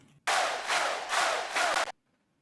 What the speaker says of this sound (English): So we're going to start with a typical crowd noise.